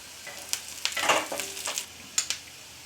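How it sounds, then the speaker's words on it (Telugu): Thinly sliced medium onion frying with a bay leaf in a pan for mushroom masala curry, a quiet sizzle broken by a few sharp crackles and stirring scrapes, close by. "సన్నగా కట్ చేసి పెట్టుకున్న ఒక మీడియం సైజు ఉల్లిపాయ ఎర్రగా వేగాలండి."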